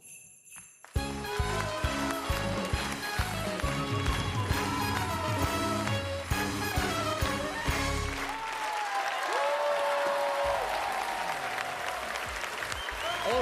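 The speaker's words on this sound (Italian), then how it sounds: "Oceanico applauso!" Loud audience applause on an Italian radio show about Neapolitan song, a dense clapping wash from a crowd that starts abruptly and carries on over music, with a voice speaking over it toward the end.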